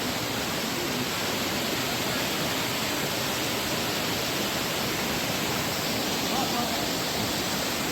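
Changey Waterfall in Kalimpong pours into a cave-like hollow, a loud, steady, broadband roar of rushing water filling the whole scene without letup.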